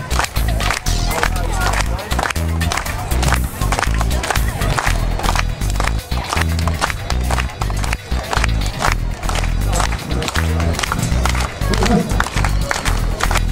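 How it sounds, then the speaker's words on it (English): An audience at an outdoor street performance claps together in a steady rhythm for a busker, the dense, loud claps running continuously with crowd murmur and voices mixed in. "I'm doing it for people who are clapping."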